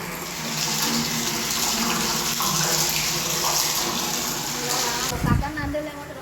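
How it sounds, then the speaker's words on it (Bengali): Tap water runs steadily through a pipe into a storage tank at home, a continuous gushing fill sound that carries on throughout, with voices talking over it and a brief thump near the end. "ওইখান থেকে পাইপ নিয়ে আমাদের এই ট্যাঙ্কি ভরা হচ্ছে"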